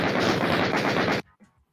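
Chaingun firing in the 1993 video game Doom: a loud, rapid, continuous burst of shots lasting just over a second, then cutting off abruptly into near silence.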